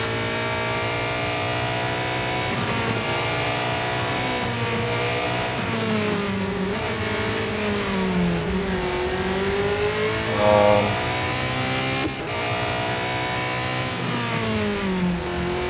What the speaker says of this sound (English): this car can take a lot of these corners flat out